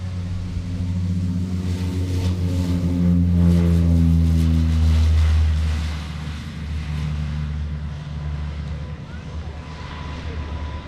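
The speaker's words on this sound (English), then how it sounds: "Here we go, ladies and gentlemen, on the takeoff roll." A Grumman OV-1 Mohawk twin-turboprop on its takeoff roll at an airshow: a steady, loud engine drone with a deep rumbling hum that swells and then eases, continuous throughout with no talking.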